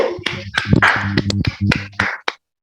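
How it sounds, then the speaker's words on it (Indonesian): Scattered hand claps from a seminar audience at a church talk on the resurrection of Jesus, a few sharp separate claps over a steady tonal hum, close and fairly loud, fading out near the end. "Berikan tepuk tangan lebih dulu."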